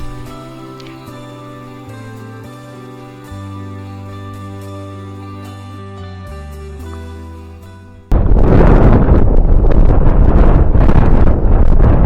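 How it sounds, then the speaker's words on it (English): Strong wind buffets the microphone on a bike ride at Colonial Beach, Virginia, cutting in abruptly as a loud, continuous roar that swamps everything after a stretch of music. "Man, that wind is something today."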